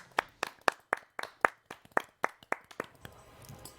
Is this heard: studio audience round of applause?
yes